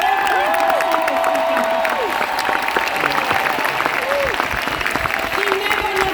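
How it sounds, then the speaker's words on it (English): A large convention audience applauding the speaker's granddaughter, dense loud clapping with some cheering, sustained throughout while voices carry over it. "Can we just give my granddaughter the biggest round of applause?"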